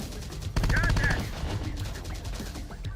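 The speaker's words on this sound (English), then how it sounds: "Got enemy fire on our position." Video game gunfire comes as bursts of loud, near automatic shots in a battle scene, with a continuous rumble of shooting under faint voices.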